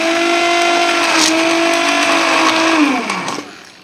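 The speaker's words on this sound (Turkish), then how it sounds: "Bunu blenderla hafiften çektim." A kitchen blender whirs loudly and steadily while whipping pistachio (menengiç) coffee with milk and sugar, then its motor pitch drops and winds down to a stop after about three seconds.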